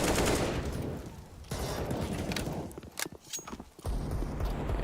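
Gunfire and grenade blasts in a Counter-Strike esports match at BLAST Premier Spring Finals, bursts of rapid shots and sharp cracks, loud and close, broken by brief quieter gaps.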